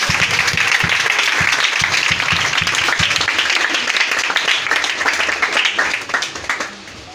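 A church congregation applauds and acclaims the Lord, loud sustained clapping with cheers filling the room before easing off at the end.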